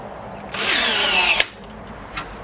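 A cheap cordless 1/4 inch rivet gun sets a 15 mm stainless rivet through three thin sheets of old garden-shed metal: a short whirring motor pull ends in a sharp snap as the mandrel breaks, followed by a faint click.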